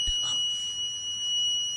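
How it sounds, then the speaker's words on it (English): An air quality sensor's buzzer sounds a steady, high, continuous electronic tone as CO2 reads 1500 to 1600 ppm, quiet and unbroken for the whole stretch. "So now the buzzer is beeping"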